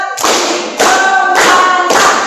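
A group claps together on a spoken count in a classroom: four loud, evenly spaced bursts of hand claps, each a sharp broadband crack with a brief ringing tail, in a steady rhythm close to the listener.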